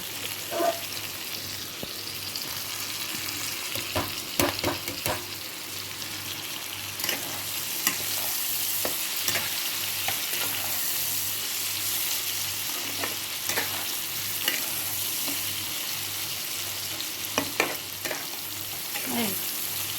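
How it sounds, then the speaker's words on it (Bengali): Pieces of pumpkin fry in a pan for a Bengali pumpkin and shrimp mash. A continuous, fairly quiet sizzle runs throughout, with occasional sharp ticks and scrapes from stirring. "আঁচটা একটু কমিয়ে এবার ঢাকা দিয়ে আমি ভেজে নেব যতক্ষণ না কুমড়োটা ভালো করে সেদ্ধ হচ্ছে"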